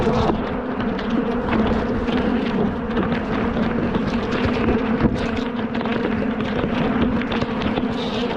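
Angry bees swarm close around a GoPro camera, a dense, loud, unbroken buzz of many wings holding steady throughout.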